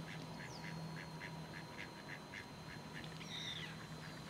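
Ducks quack in a steady, rhythmic series of calls out on open water, fairly faint and distant over a low continuous background hum, with a brief higher call near the end.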